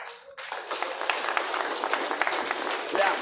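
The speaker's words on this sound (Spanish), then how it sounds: "fuerte aplauso para ellos." Applause from a meeting audience of Aymara and Quechua peasant community presidents breaks out sharply and continues as dense, steady clapping from many hands.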